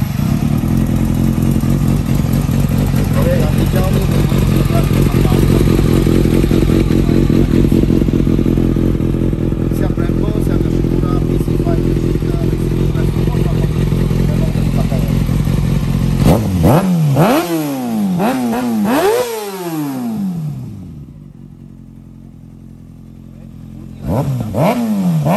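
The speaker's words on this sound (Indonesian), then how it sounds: "mari kita cuba start dia. ZX6 2017, Yoshimura R55 punya adjust macam mana." A 2017 Kawasaki ZX6R sport bike with a Yoshimura R55 exhaust idles loudly and close for a long stretch, then gives several sharp revving blips that rise and fall, with a brief near-quiet gap between them.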